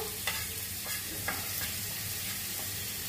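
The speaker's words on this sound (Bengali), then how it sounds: "একটু আদাটা ভেজে নিচ্ছি হালকা করে" Ginger lightly frying in a pan for a banana flower curry (mochar ghonto), a steady close sizzle broken by soft scrapes of stirring, with no talking.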